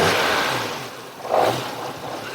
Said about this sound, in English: it sounds like the timing chain or the timing belt might be off at some stage when you rev it up high